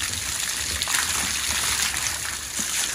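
Water pours and trickles steadily over a horse being bathed, a continuous close splashing gush with no talk.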